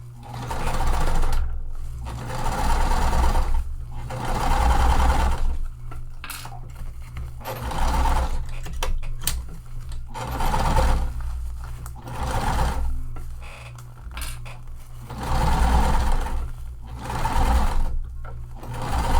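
A sewing machine runs in repeated bursts as it stitches seams in waterproof canvas for a pool tote, each loud steady whirring run separated by brief pauses, close and clear with no voices.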